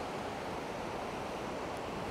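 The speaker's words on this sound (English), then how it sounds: "river comes down the waterfalls and starts coming off into this gully" A river pours down waterfalls into a gully, making a steady, dense roar of rushing water that stays even throughout with no voices.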